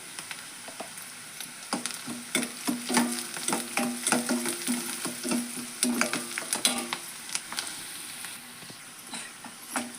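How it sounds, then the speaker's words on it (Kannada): Sprouted horse gram curry frying in a pan, a close crackling sizzle with repeated scraping and tapping of a spatula stirring it, no speech. "ಇದು ಫ್ರೈ ಆಗೈತೆ ನೋಡ್ರಿ"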